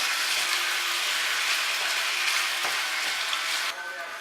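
Beef vindaloo ingredients frying in a pan, a loud, steady sizzling hiss held close throughout, dropping slightly just before the end.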